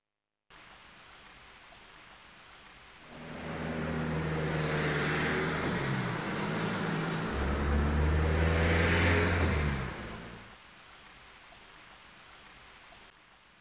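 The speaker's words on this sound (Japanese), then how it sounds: "どうやら今日は一日小雨が降り続くみたいだな。" Light rain falls in the video game The Legend of Heroes: Trails to Azure, a soft continuous hiss that thickens midway as a low engine-like rumble swells and fades, then thins back to steady drizzle.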